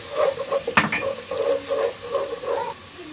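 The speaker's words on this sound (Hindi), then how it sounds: "प्याज हमारे ब्राउन हो गए। अब हम इसमें लहसुन डालेंगे।" Garlic hits browned onions frying in a pan, a soft sizzle under scraping, stirring strokes and a sharp clink of a utensil against the pan, close and rhythmic.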